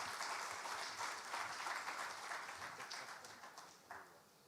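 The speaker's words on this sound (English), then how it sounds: "Can we do a louder round of applause?" Round of applause from the audience at a Ghanaian banking and credit event, a fairly quiet patter of many hands that thins out toward the end.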